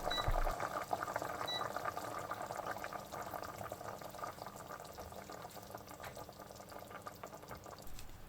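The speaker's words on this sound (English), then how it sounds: "While boiling the pork belly," Quiet, continuous bubbling and simmering of pork belly boiling in a pot, with soft gurgles and no voices.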